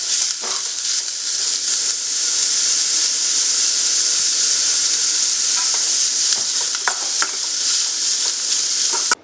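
Sliced onions sautéing in oil in a pan for an onion wheat dosa, giving a loud, steady close sizzle with a few scraping stirs, and no talking.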